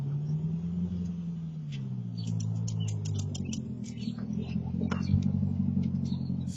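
A C7 Corvette ZR1 pulls in off the road, captured from a distance by a front doorbell camera: a low engine rumble under a rapid series of faint, sharp clicks from a wheel.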